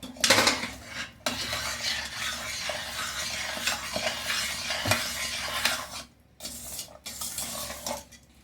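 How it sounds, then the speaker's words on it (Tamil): A spoon scrapes and clanks against a pan while ghee, fried cashews and raisins are stirred into sweet pongal: continuous close metallic stirring with a few brief pauses, with no one talking. "அதையும் இதில் சேர்த்து நல்லா மிக்ஸ் பண்ணி விடுங்க"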